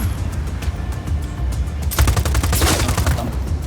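Rapid automatic gunfire in the Just Cause 4 video game, a loud fusillade of dense, crackling bursts that swells in the second half, with no talking.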